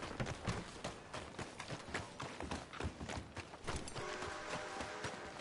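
Horse hooves clip-clop at a steady run in the Red Dead Redemption video game, the rhythmic thuds sitting under a dense, busy mix of game sound throughout.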